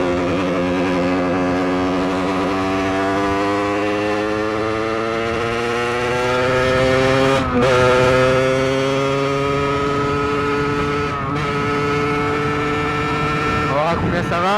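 A 50cc supermoto motorcycle rides along steadily, its engine a loud continuous whine with harmonics rising and falling through gear changes and throttle shifts, near and sustained for the whole stretch.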